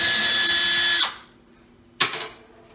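A power drill backs out long panhead cabinet screws holding a cabinet to the wall during a kitchen remodel, with one sustained high whine that stops, then a short second burst after a pause.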